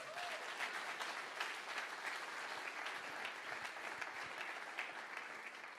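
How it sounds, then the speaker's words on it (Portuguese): Steady applause from a church congregation fills the space, a dense wash of many hands clapping at even volume throughout with no pauses. "Aplauda Jesus, por favor."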